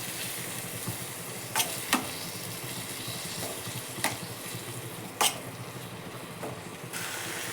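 Chopped tomatoes frying in a pan for dhaba-style mushroom gravy, a soft steady sizzle with occasional sharp pops and crackles, fairly quiet and with no talking.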